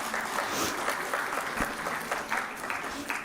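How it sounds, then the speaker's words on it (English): An audience at a law school convocation claps in a dense, sustained round of applause, heard at a moderate distance with some crowd murmur mixed in. "Big round of applause to your Chancellor."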